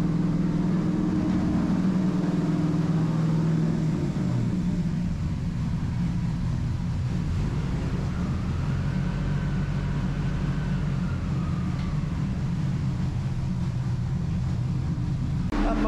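A turbocharged Toyota 3RZ engine runs on a dyno, giving a continuous loud rumbling drone that shifts in tone and briefly rises in pitch midway, with people talking over it.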